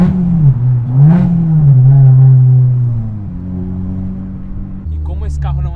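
A Honda NSX engine rises in a quick rev blip during a heel-toe downshift, then settles back to a steady drone before dropping to a lower hum, all loud and close.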